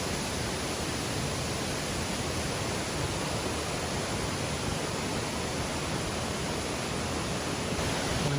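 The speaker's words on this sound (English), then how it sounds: "We made it here to Mill Creek Falls." Steady, even roar of Mill Creek Falls in West Virginia, broadband water rush holding constant throughout with no voices, close and loud.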